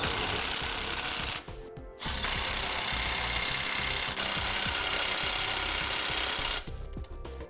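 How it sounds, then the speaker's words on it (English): A ratchet and impact wrench tighten the bolts of a Curt trailer hitch receiver on a 2006 Chrysler Town and Country, a steady close buzzing and rattling that runs for seconds, with two brief breaks. "we'll tighten them down a little bit with a ratchet, and we'll repeat this exact same process on the other side. And then we'll tighten them fully with our impact."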